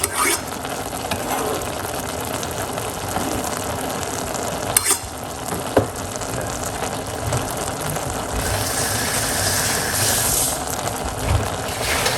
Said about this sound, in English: Stirring the garlic inside of it.